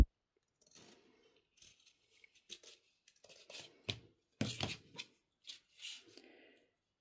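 Scissors snipping embroidery fabric flush against the edge of an embroidery hoop, a scattered series of quiet close cuts and rustles in a hushed setting.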